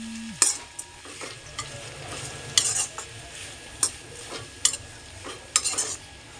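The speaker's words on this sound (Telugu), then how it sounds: "ఒక 15 నుంచి 20 నిమిషాల మధ్య దీన్ని ఇలానే ఫ్రై చేస్తూ కలుపుతూ ఉండండి" Bitter gourd pieces fry in a pan under a moderate sizzle while a spatula stirs and scrapes in frequent sharp bursts, with a light metallic clink at the start; no talking.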